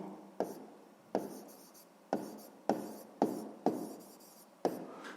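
A pen writes out a sixth-grade math solution on paper, seven sharp strokes in an irregular rhythm, each tapering into a short scratch, close and quiet with no talk.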